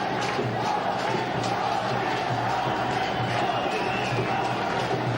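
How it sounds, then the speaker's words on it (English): A cricket stadium crowd chants for Dhoni at a tense India match, a dense, steady roar of many voices filling the whole stretch with rhythmic swells. "Crowd chanting for Dhoni."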